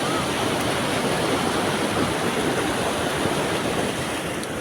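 Small waterfall pouring in a steady, dense rush of water, close and loud throughout with no break, no voices over it.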